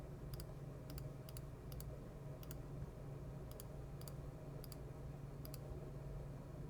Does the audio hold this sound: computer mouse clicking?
yes